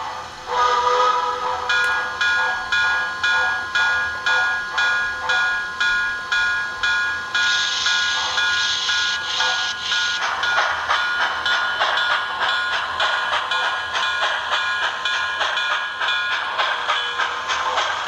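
A model MTH PRR K4 steam locomotive pulls a shortened string of about four train cars, giving off a loud, steady run of rhythmic chuffing pulses with sustained whistle-like tones layered on top, and no talking.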